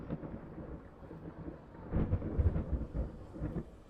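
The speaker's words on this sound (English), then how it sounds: "now it starts thundering" Thunder rolling outside during rain that has nearly stopped, a low rumble with a louder burst in the middle that fades back to a dull background, heard from indoors and without talk.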